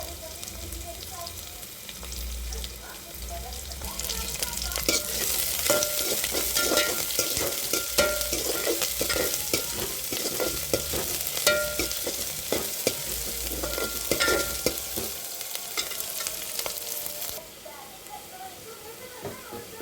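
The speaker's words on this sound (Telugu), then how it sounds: "కరివేపాకు కూడా వేసుకుంటున్నాను అండి కొంచెం" Curry leaves hit hot oil with onions already frying for a Telugu curry, giving a steady crackling sizzle with stirring that builds after a few seconds, then thins out near the end.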